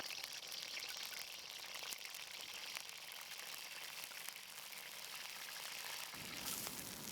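Peanuts frying in hot oil in a pan, a steady broadband sizzle with crackling pops that holds fairly level throughout, no talking.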